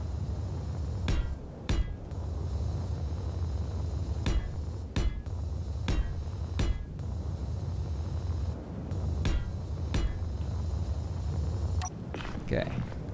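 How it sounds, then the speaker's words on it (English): Welding in the video game Space Engineers, a run of sharp metallic bursts spaced a second or two apart over a steady low hum, with a voice speaking in between. "Now I can do some welding."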